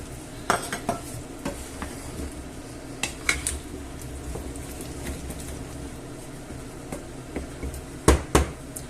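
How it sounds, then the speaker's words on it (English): A utensil stirs potatoes into a pot of clam and white bean stew, with scattered metallic clinks and scrapes against the pot over a low kitchen background. "So we'll stir that in, and what I'll do is add the potatoes."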